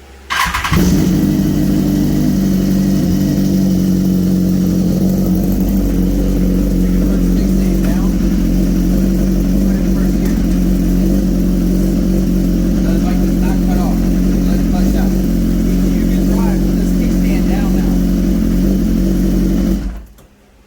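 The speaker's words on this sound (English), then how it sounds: "But now that the kickstand is bypassed, we'll be able to start the bike." A 2012 BMW S1000RR motorcycle engine starts and then idles and revs steadily for about twenty seconds, loud and close with a strong low rumble, then cuts off abruptly.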